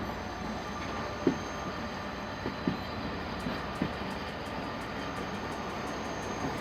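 A freight train stands at a railway station in Pakistan, giving off a steady low rumble with a few faint clanks and knocks scattered through it and light repeated ticking later on, with no voices.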